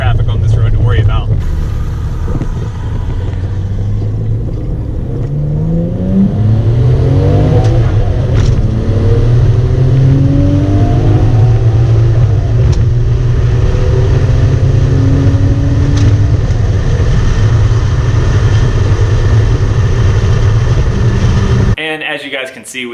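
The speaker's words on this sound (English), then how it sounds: "I don't have a super loud exhaust like the Tomei exhaust, but what the heck, I'll give you one" A JDM car without a loud aftermarket exhaust accelerates along a bumpy rural dirt road, its engine note rising through several gear changes as a steady, close drone fills the cabin.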